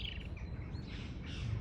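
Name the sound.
small bird chirping in a garden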